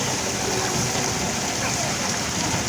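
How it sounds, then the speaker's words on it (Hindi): Heavy stormy rain pours down in a dense, continuous hiss that stays loud and even throughout, with no pauses. "ये देखें यहाँ जो है हो रही है बहुत तेज़ और तूफ़ानी बारिश"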